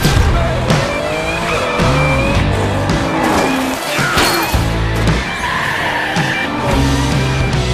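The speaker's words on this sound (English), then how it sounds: "there's a wreck! The cars are piling up!" Race cars in The Crew 2 video game skid and crash in a loud, continuous pileup, with tires squealing, engines roaring and several impacts scattered across the stretch, and nobody speaking.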